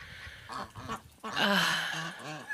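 Domestic geese, a gander and his paired goose on a farmstead, give a few nasal honking calls close by, a short pair of cries followed by a louder, longer honk and one more call near the end.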